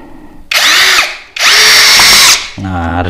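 A cordless drill, an APR 13 Pro, whirs loudly in two strong bursts as it drives a screw into wood under firm pressure, then the motor winds down.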